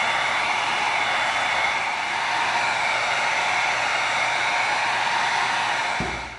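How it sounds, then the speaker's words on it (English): A heat gun blows a steady, close, loud airy roar while heating EVA foam, holding constant for several seconds before clicking off near the end; no voices. "we're going to get the heat gun out and we're going to heat it up"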